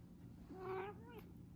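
A cat gives a single faint, rising-then-falling meow indoors against quiet background hum.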